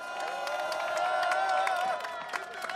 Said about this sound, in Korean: 힘내라고 박수 부탁드립니다.